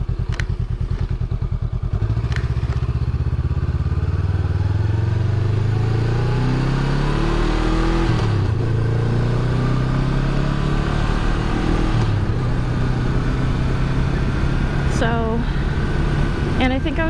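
A Honda Rebel motorcycle ridden on a road gives a loud, steady engine drone that rises and falls through gear changes, with wind rush and a rider talking over it.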